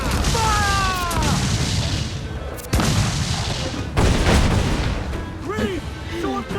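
Ship cannons firing during a naval battle in Assassin's Creed Black Flag: a few heavy booming blasts, with a loud one near the middle and another just after, over a continuous roar of sea and battle noise, with shouted voices near the end.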